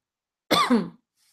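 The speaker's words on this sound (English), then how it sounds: "As I'm coughing over here" A single short cough, close and fairly quiet, alone in silence.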